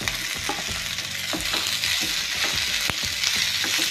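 Tomato and onion with ginger and garlic fry in a pan for masala puri, a close, steady sizzle broken by repeated scraping stirs.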